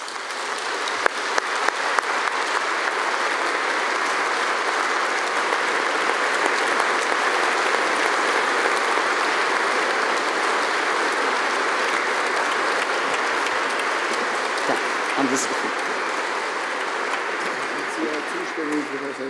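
Sustained applause from a ceremony audience welcoming Edzard Reuter as recipient of the Richard-Merton-Ehrennadel 2014, a steady dense clapping that fills the room evenly for about nineteen seconds.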